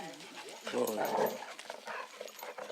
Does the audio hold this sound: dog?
yes